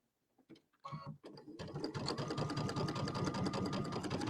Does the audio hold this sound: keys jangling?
no